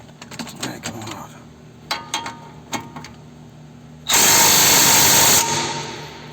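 A power tool snugs down the brake bolts on a 2014 Mercedes-Benz CLA250, with a few light clicks and knocks first, then a loud, harsh burst of about one and a half seconds close up.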